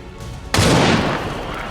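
A single loud, close gunshot from the XCOM 2 video game, a sharp blast followed by a decaying rumble and a short, noisy tail.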